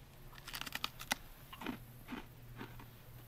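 Crisp, crunchy bites into a fried bluegill or redear tail, a quick cluster of sharp crackling crunches followed by softer chewing, close and quiet.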